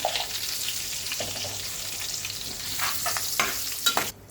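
Curry leaves, turmeric and broken dried red chillies crackle and sizzle in hot oil for a Telugu home-style telagapindi curry, with a steady close fry, a few sharp pops and the clink of stirring near the end.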